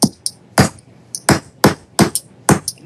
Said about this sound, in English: It has a ball peen edge. You can even go around in here a little bit.